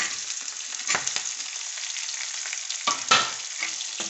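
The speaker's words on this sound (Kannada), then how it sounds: "ಇವಾಗ ಈರುಳ್ಳಿ ಹಾಕ್ತೀನಿ." Onions frying in a pan: a steady, close sizzle throughout, with a few louder bursts as they are stirred, and no one talking.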